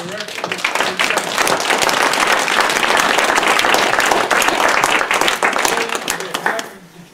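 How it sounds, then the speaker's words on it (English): A live audience at a talk on Canadian Jewish soldiers of the Second World War breaks into sustained applause, dense steady clapping lasting several seconds before fading out at the end. "I think that we owe her a special round of applause for her work"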